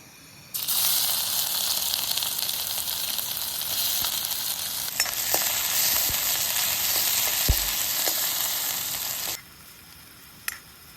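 Chicken cooks in a covered pan at a hillside campsite in Gurdum Village, Darjeeling, giving a steady, loud hissing sizzle that runs for about nine seconds and then cuts off, with a few faint knocks.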